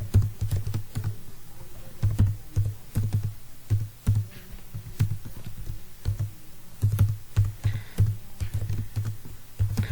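Fast, close keystrokes on a computer keyboard as C programming code is typed, with rapid clicking bursts and brief pauses throughout, loud and with no talking.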